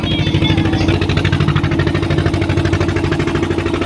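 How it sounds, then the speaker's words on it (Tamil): Loud, steady engine drone with a rapid rhythmic chug, running continuously and close throughout, filling the space with no other sounds standing out. "இன்ஜின் சத்தத்துக்கு நான் பேசுகிற ஒன்றும் அவ்வளோ கேட்காது உள்ளக்கு."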